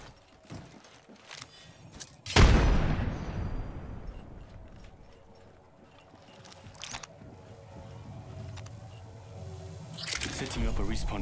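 Frag grenade going off in Apex Legends: one loud, close blast that rolls away in a long decaying rumble, followed by lighter in-game clatter and another burst near the end, with talk around it.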